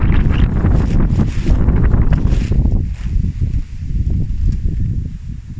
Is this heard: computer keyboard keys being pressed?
no